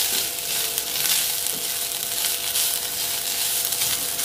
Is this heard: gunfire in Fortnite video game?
no